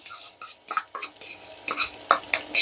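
Shallots tossed into a hot pan for egg fried rice, stirred with a utensil: scattered scraping clinks and soft sizzling bursts, close and fairly quiet, with no talk.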